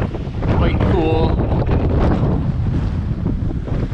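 Wind buffets the microphone aboard the sailboat Tally-Ho in stormy, rainy weather, a loud continuous rumbling roar under a man's brief speech.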